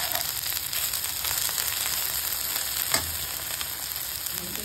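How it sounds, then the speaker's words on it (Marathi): Chopped okra and tomato sautéing in oil, giving a loud, dense, steady sizzle close up with a single sharp scrape or clink of the spatula partway through, and no voices. "भेंडी आवडी चिरून टमाटर तेलामध्ये परतून घ्यायची"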